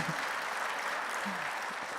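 Audience applause at a church missionary revival meeting, a steady soft wash of clapping heard from a distance and lasting the whole stretch.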